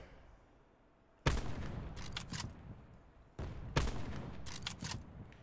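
Two separate bursts of rapid gunfire in Call of Duty Blackout, each opening with a sharp crack and trailing into quick repeated shots, moderately loud with quieter gaps between and no talking.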